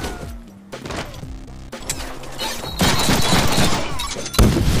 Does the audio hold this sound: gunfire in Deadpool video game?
yes